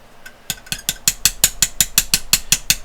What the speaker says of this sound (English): continue tapping it toward the front of the gun